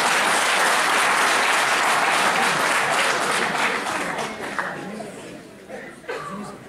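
An audience bursts into strong applause at a talk on gender and education, loud at first then thinning out and fading, with scattered chuckles and murmured chatter beneath.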